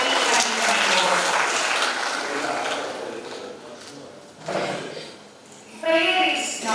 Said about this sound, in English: All of you be a round of applause to the beginning of Mpcit 2024